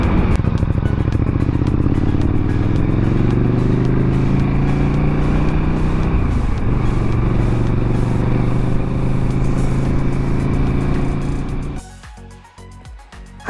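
KTM 1290 Super Duke R motorcycle with an SC Project exhaust and dB killer fitted, a loud, close, steady engine roar with a shifting pitch, dropping away sharply near the end.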